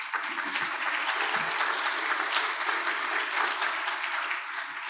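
Audience applause at an EU ministers' gathering in Venice, honouring the governor of the Veneto region: dense, steady clapping from a large seated crowd, sustained evenly for about five seconds without voices.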